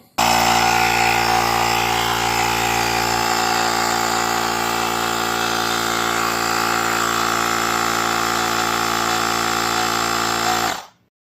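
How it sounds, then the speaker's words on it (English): An air pump inflates the front wheel inner tube of a Jetson Bolt eBike, producing a loud, steady mechanical whirring drone that runs continuously for about eleven seconds before cutting off abruptly. "let's air it up and see where we're at"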